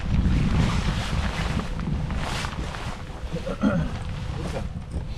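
Wind gusting across the microphone on a lake bank during a late-winter bass fishing outing, a steady broadband rush filling the whole stretch with faint voices underneath.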